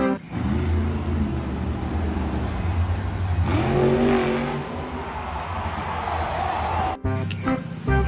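Toy monster truck engine revving, a loud continuous motor roar with rising pitch that swells mid-clip, then a brief break and a shift near the end, voices faintly present.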